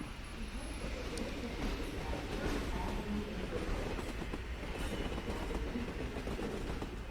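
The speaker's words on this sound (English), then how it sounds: "Oh, are they on a train?" A train rolls along rails with a continuous low rumble and faint rhythmic clatter, heard at modest level as a steady background over about seven seconds.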